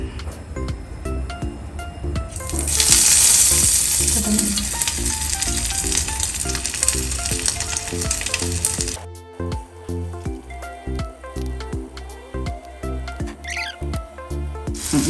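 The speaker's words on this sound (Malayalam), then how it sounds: "നമുക്ക് നമ്മുടെ ചിക്കൻ വറുത്തെടുക്കാം." Breadcrumb-coated chicken popcorn fries in hot oil on low heat, giving a steady close hiss and crackle that swells sharply for several seconds, then settles under clinks and shifting pieces.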